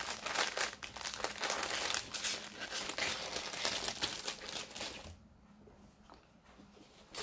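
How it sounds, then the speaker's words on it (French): Paper crinkles and crumples steadily up close during an unboxing for about five seconds, then stops, leaving near silence. "tu fais du bruit avec ton papier"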